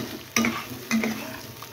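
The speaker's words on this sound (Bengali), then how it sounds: "এবার এই যে বাটা মশলাটা দিয়ে দেবো, পুরোটাই দিয়ে দেবো। ভালো করে কষতে থাকবে।" Ground spice paste sizzles in a hot pan while a spoon scrapes and stirs it twice in quick succession. The scrapes are close and clear over a continuous frying hiss, with no talking.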